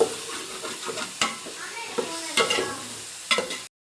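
Fish being stirred as it fries in a pan, with a spatula scraping in a few distinct strokes over a steady close sizzle.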